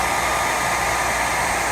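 A blow dryer pushes hot air onto cardboard boxes in a loud, unbroken rushing hiss, steady and close with no voices.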